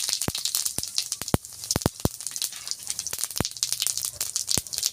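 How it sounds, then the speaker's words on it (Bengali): Cumin seeds drop into hot oil left over from frying fish, crackling and popping in sharp irregular bursts over a soft sizzling hiss. "ওই তেলে জিরা দিব"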